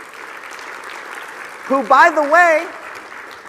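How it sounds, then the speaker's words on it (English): A conference audience applauds Ryan Daniel Moran with steady, dense clapping throughout, while a voice briefly rises above the crowd partway through. "Let's give a round of applause for Ryan Daniel Moran,"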